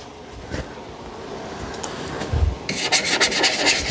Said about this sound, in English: Looks like I'm gonna have to scrub a little bit more on the Goo Gone